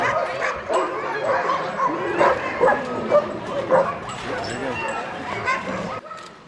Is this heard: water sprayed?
no